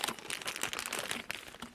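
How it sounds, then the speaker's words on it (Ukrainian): A TAKEHOT chemical hand warmer packet is torn open and its plastic wrapper crinkled, giving dense, crackly rustling and ripping up close. The sound is continuous, quiet and alone, with no talk. "Пакет у нас розривається."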